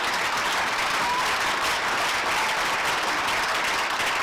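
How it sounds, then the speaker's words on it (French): A church congregation applauds steadily throughout, a dense, even wash of clapping from a large crowd with no pauses or voices standing out. "Est-ce qu'on peut applaudir pour l'amour de Dieu?"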